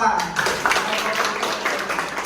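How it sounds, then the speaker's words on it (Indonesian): An audience of teachers in training claps for a presenting group during a classroom session, a short patter of clapping with voices talking over it. "tepuk tangan buat kelompok 4"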